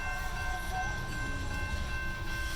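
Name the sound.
CSX freight train with two locomotives and distributed power unit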